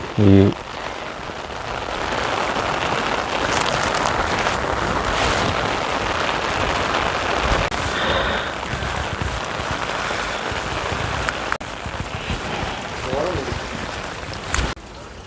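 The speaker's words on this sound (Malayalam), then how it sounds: "നല്ല മഴ, സ്ട്രോങ്." Heavy rain pours in a constant loud wash, drumming on a surface close by, with a few brief sounds breaking through.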